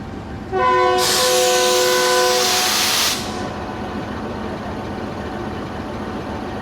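A loud, steady train whistle blasts for about two and a half seconds at Gujranwala railway station in heavy rain, then cuts off, leaving a low hiss and background rumble.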